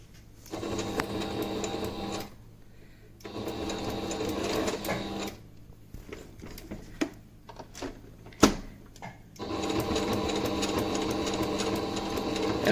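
A sewing machine stitches a fabric face mask in three sustained runs of steady mechanical whirring, broken by pauses filled with clicks, small knocks and handling noises.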